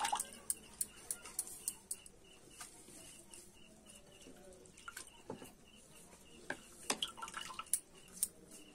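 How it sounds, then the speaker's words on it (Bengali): Water drips and trickles off marigold petals that were soaked in salt and turmeric water, small irregular splashes up close with birds calling and cooing faintly in the background. "জলটা ভালো করে ঝরিয়ে।"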